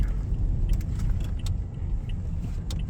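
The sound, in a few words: car driving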